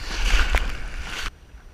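A surfer paddles hard through the water, a close, rushing splash for about a second that stops abruptly, with no voices.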